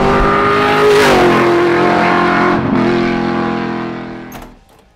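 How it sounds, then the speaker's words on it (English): A loud Shelby GT350 sports car engine revs to a high, screaming pitch, then holds and gradually winds down before cutting off near the end. "This car screams."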